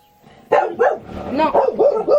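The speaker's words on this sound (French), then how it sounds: "j'ai réussi à faire aboyer tous mes chiens" Several dogs bark and yip in a quick burst at close range, loud overlapping barks with a brief whimpering edge, following a moment of near quiet.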